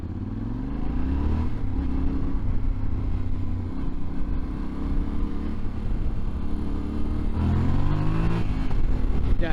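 A Yamaha Tenere 700 World Raid motorcycle's exhaust drones steadily as it rides along, with a deep rumble and engine pitch rising and falling through gear changes.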